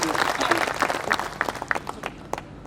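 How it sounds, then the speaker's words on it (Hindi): Scattered audience clapping at a Holi comedy and poetry show, a steady patter of many hands at moderate volume that thins out toward the end. "एक बार तालियां बजा दीजिए"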